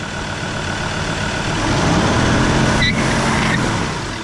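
A Ford Ranger PX2 runs in gear held on the brake, its engine a steady low drone that swells slightly in the middle before easing back, close and continuous.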